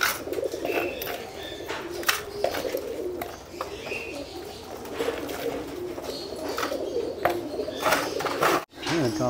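Pigeons coo softly and repeatedly while feeding on a mix of redstone, shell grit and Taiwan soil in a loft aviary, with scattered chirps and occasional wing flutters over a steady background.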